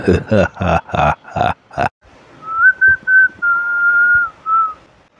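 A person whistles a song tune, first several short punchy notes in quick succession, then after a brief pause a sustained, wavering melodic whistle, close and loud.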